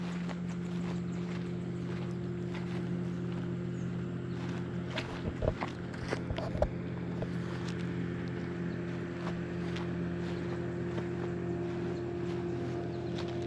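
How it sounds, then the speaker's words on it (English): Low steady engine hum of a boat on a river, droning continuously at a moderate distance, with a few soft knocks midway. "Got a boat coming down the river,"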